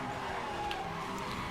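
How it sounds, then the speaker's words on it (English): A Porsche in the racing game Need for Speed Hot Pursuit Remastered revs steadily while its tyres squeal and skid, a continuous dense roar with no talk over it. "The engine sounds great in this Porsche."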